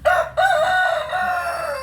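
A rooster crows in one long, loud call close by, with a brief break near the start before the cry carries on and slowly fades, set in a rainy afternoon outdoors.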